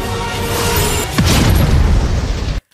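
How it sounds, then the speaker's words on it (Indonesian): A big explosion sound effect in a fantasy battle scene: a loud, booming blast that swells into a sustained roar, then cuts off abruptly. "Teng Li terluka parah setelah perisainya hancur dan terkena ledakan besar"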